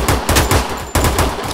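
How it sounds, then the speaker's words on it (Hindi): Rapid gunfire in the Free Fire Max video game crackles in two fast bursts of loud, evenly spaced shots separated by a brief pause, close and punchy with no talking. "ओए गोलियां चल गई"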